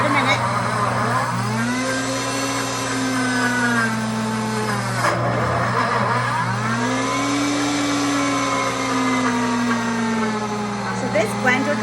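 A loud motor whirs steadily throughout, its pitch sliding up and down in long sweeps, with a brief dip in the middle and voices talking underneath.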